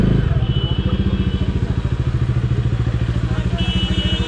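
A Bajaj Dominar 250 motorcycle engine thumps loudly and rhythmically up close while the bike turns slowly through a narrow lane, a steady low pulsing idle throughout.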